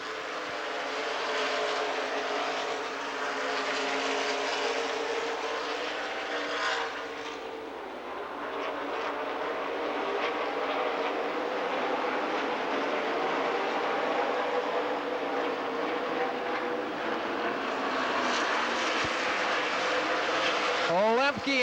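Stock cars circle Madison Speedway in Wisconsin during a NASCAR Re/Max Miller Lite 200 race, a steady broadband roar of engines that never lets up, with a race announcer talking over the noise.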